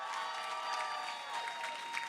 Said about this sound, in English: And then the biggest round of applause for Marcelle Hutchins